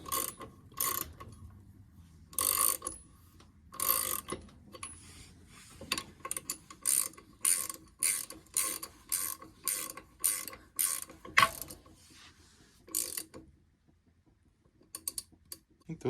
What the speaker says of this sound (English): We'll sling them up with a wrench here.